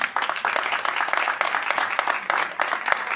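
Audience applause at a live music concert, a steady wash of clapping at moderate level filling the whole stretch without a pause.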